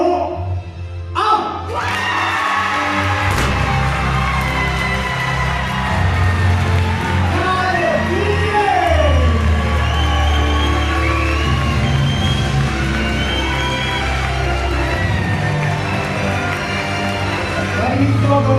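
Crowd applauding and cheering loudly at the Miss Lens 2023 beauty pageant in Lens as the winner is crowned, dense sustained clapping and whoops with a voice over a sound system talking through it.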